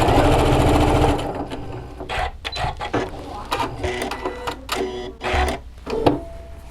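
Back-tacking a face mask seam on a sewing machine: a loud, fast stitching burst at the start, then shorter stop-start runs of stitching with brief pauses, close to the microphone.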